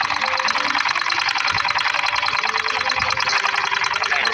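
A sewing machine stitches an Arabian jubba in a fast, even, mechanical clatter, its rapid needle rhythm running continuously and close up without pause.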